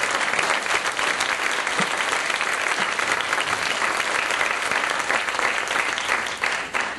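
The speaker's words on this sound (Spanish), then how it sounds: "Sí, un aplauso a ese a Dios." Church congregation applauding together during a worship service, a dense steady wash of clapping hands that holds loud and continuous throughout without pausing.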